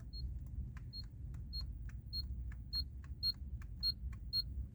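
A Fiat Egea's dashboard speed warning buzzer beeps repeatedly at a steady pace, short high-pitched tones over a low engine-like hum, getting gradually louder.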